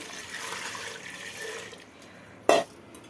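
Water pours quietly into a cooking pot of pumpkin stew with a soft steady rush for a couple of seconds, then a single sharp clink.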